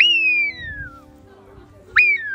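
A person whistles an imitation of a gull's call, two clear descending whistled notes separated by a short pause, close and fairly loud.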